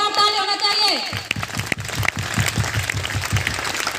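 Audience applause at a DXN mega meeting in Samastipur, Bihar: a burst of dense clapping from a seated crowd follows a voice and continues steadily for several seconds, fairly loud and close.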